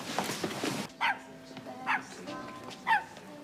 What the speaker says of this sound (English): Any way you can shut that dog up, Roy?